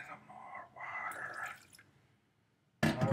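Water is poured and dripped into pizza dough being mixed by hand, a short, soft liquid trickle close by in a quiet kitchen, ending with a sudden louder splash-like burst.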